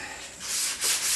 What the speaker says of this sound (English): This is a very fine sandpaper.